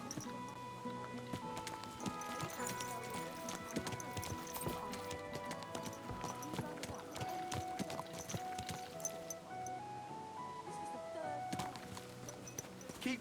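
Horse hooves clip-clop steadily in Kingdom Come Deliverance 2 gameplay, layered under a dense bed of game music and ambient sound at moderate loudness.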